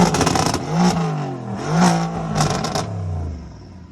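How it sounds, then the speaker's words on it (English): Lamborghini supercar engine revving, with three or four sharp throttle blips rising and falling in quick succession, loud and close, ending in a settling idle. "Are you able to give it a rev?"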